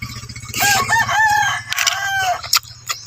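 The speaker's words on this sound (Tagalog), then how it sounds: "napakinggan ninyo yung manok na laging nagtitilaok" Gamecock rooster raised for fighting crowing loudly and close, one long drawn-out crow with clucks and squawks from other fowl around it over a steady low hum.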